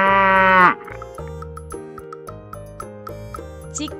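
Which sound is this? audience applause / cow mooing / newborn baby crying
cow mooing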